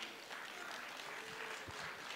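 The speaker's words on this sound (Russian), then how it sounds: "Аплодисменты." Audience applause fills a hall at the Miss Moscow 2018 beauty pageant at Crocus City after a song performance, a steady, fairly soft wash of clapping with no pauses.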